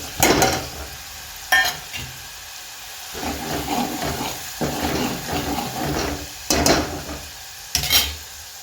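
Spices tipped onto reddened frying onions over raised heat for a spicy chilapi fish curry, with sharp scraping stirs against the pan over a steady sizzle, close and fairly loud.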